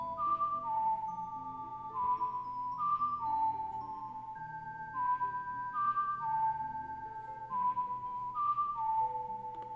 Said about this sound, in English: Let me whistle it.